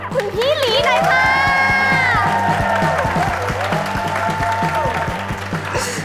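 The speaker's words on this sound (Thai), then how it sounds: "งั้นขอเสียงปรบมือกับคุณพี่ลีหน่อยค่ะ" Audience applause and cheering on a comedy series set, loud continuous clapping and crowd noise with voices and a sustained sung or whooped tone over a rhythmic low backing beat.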